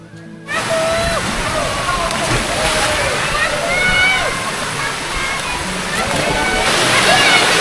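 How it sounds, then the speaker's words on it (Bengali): Moti Jharna waterfall at Rajmahal in Jharkhand cascades down from above with a loud, steady rushing roar of water. Voices and shrill calls rise faintly over the constant wash. "এই দেখুন, ওই উপর থেকে নেমে আসছে মতি ঝর্ণা।"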